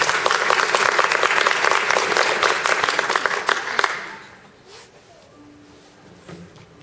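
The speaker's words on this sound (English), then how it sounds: "Please, a nice warm round of applause for contestant number six." Audience applause at a youth division fiddle championship in Arkansas, dense loud clapping for about four seconds that then stops abruptly, leaving a quiet room.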